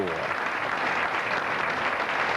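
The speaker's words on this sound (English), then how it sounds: "a very appreciative round of applause from the spectators" Spectators at the 1984 Southern Cross Cup women's bowling grand final give a dense, steady round of applause that holds at an even level throughout.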